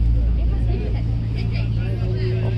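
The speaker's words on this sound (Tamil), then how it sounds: "போட் கொஞ்சம் ஸ்பீட் ஆகுதுல்ல." Engine of a river cruise boat in China, a loud continuous low drone throughout as the boat picks up speed.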